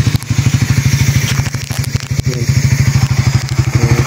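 A motorcycle engine idles loudly and close by, its rapid chugging pulses steady, with some clattering and scraping noises over it.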